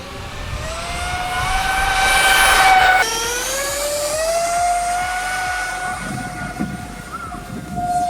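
A homemade RC jet plane with retractable landing gear whines loudly as it takes off and climbs away, its turbine pitch sweeping upward and then holding a steady high tone, with no voices.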